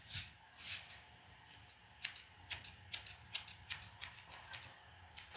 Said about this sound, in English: My scissors decided they don't want to cut.